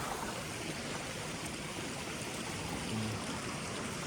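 A river rushes by in a steady, close, full-bodied wash of moving water, constant throughout with no voices over it.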